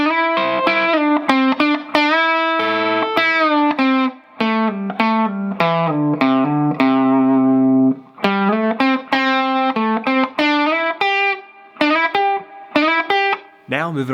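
Distorted electric guitar runs through a complete blues lick line, a steady stream of picked notes, slides and bends with brief gaps, loud and close with no voices.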